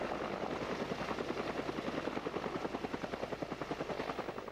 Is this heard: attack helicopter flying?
yes